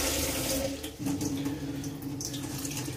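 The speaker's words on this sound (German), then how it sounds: "So, jetzt noch ein bisschen Wasser nachfüllen." Tap water runs steadily into a pot of broccoli cream soup, topping it up over the vegetables, a continuous close splashing stream with a brief dip partway through.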